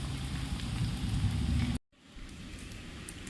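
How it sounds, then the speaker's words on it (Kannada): Steady patter of rain, fairly faint, with a brief silent cut partway through before the soft rainfall resumes. "ಮಳೆ ಹೋಗೋದ್ರಿಂದ ತಂಪಾಗ್ತಿದೆ"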